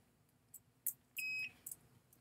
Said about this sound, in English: we got a beep there, and we don't have beeps elsewhere